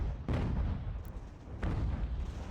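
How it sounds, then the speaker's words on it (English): Cannon artillery fire in the Ultimate General: American Revolution battle game, two heavy booming shots about a second and a half apart, each rolling out over a dense low rumble of battlefield noise. "Hopefully our cannons can do a lot of work here."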